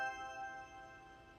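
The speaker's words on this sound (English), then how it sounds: "So this is essentially a reverb plugin, but you can choose what notes the reverb is in." A C major chord passes through a reverb plugin tuned to chosen notes and leaves a soft, shimmering tail of sustained tones that fades slowly. It is faint and has no voices over it.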